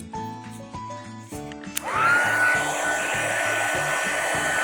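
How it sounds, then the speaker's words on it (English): A hair dryer starts up partway through and blows steadily and loudly to the end, with a rising whine settling into a constant whoosh, used to dry a neon graffiti craft piece. "Take my dryer and dry it."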